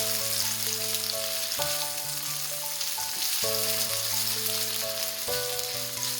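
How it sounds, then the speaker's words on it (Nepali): Marinated soybeans fry in hot oil with a steady, dense sizzle and crackle up close, while a melody plays faintly behind. "यसरी सोयाबिन राखेर चाहिँ यसलाई एकदमै राम्ररी रातो रातो हुने बेलासम्म फ्राई गर्नुपर्छ।"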